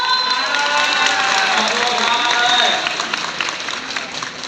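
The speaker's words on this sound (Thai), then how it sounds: "ขอเสียงปรบมือให้กับน้องๆเลยครับ" A crowd claps and cheers loudly and continuously for students on visiting day at the Chakrabongse army camp in Prachinburi, Thailand, with shouting voices mixed in, tapering off slightly toward the end.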